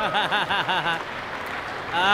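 Audience applause breaks out at a live battle event, a burst of clapping rising after a voice talks briefly at the start, then swelling again near the end.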